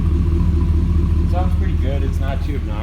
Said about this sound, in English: I'll go get an exhaust note too here